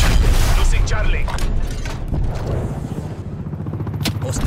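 An artillery strike in the video game Call of Duty Black Ops Cold War lands as a rapid barrage of loud, close booms and rumbling blasts, mixed with crackling gunfire throughout.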